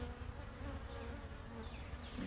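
Honey bees drone steadily and fairly loud close by, a continuous dense buzz with individual insects passing near, while a beekeeper inspects brood frames in an open hive.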